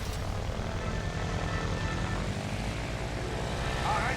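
An airplane's propeller engine drones steadily and loudly in the Tintin Secret of the Unicorn video game, a continuous dense roar with no breaks.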